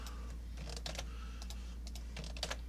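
Someone types on a computer keyboard in quick irregular bursts of soft clicking keystrokes over a steady low electrical hum.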